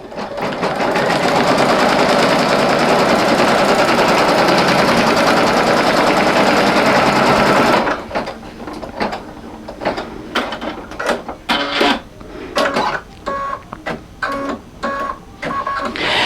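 A single-needle embroidery machine stitches an appliqué mug rug in the hoop, running as a loud, continuous rapid whir for several seconds, then switching to short, stop-start bursts of stitching.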